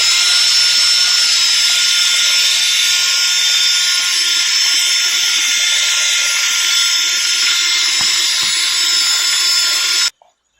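An electric drill spinning a polishing ball against an aluminum wheel gives a loud, steady high-pitched whine close by, running unbroken for about ten seconds before cutting off abruptly.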